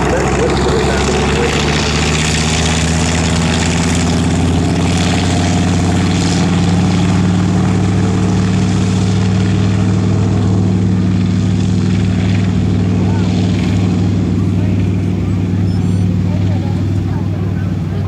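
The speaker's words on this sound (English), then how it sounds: "Well, there you hear the sound of a radial engine." A Grumman TBM Avenger, built under license by General Motors, runs its radial piston engine at an airshow, giving a steady, loud, deep droning rumble with a propeller throb that holds evenly throughout, with some voices underneath.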